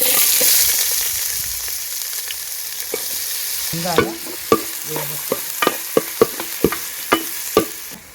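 Onions fry in oil with cinnamon, cardamom and cloves for a mutton curry: a soft steady sizzle broken by a run of sharp, regular spoon clacks against the pan near the end, close up and with no voices.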